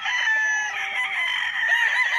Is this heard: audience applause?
no